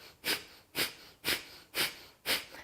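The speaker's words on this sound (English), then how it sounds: "And so what it is it's a very forced exhale." Breath of fire yoga pranayama: five sharp, forced exhales through the nose, evenly spaced about half a second apart, close and breathy with a snorting edge.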